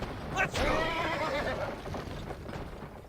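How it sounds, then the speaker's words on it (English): A horse whinnies loudly near the start in the Western video game GUN, followed by steady clip-clop hoofbeats of galloping and faint mechanical noise, with no talk over it. "Oh no, I am riding my horse too hard."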